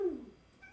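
A single short cat meow, a quick falling cry at the very start that fades into a quiet room.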